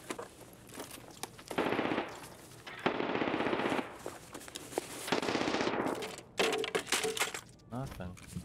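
Automatic gunfire from a machine gun in a video game rattles in several long bursts and shorter volleys, loud and close, with players talking between and over the shots.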